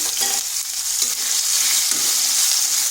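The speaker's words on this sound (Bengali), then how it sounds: "আলুটা একটু ভাজা ভাজা করে নেব" Small pieces of potato, lightly salted, fry in a pan with a bright, steady hissing sizzle up close, broken by faint stirring bumps and no voices.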